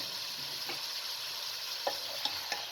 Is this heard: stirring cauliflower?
yes